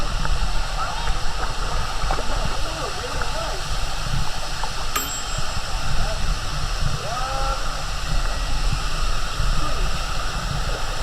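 Water flows and splashes continuously at the Sticky Waterfall in Chiang Mai, a steady broad rush close by, with people talking faintly and a brief sharp click partway through.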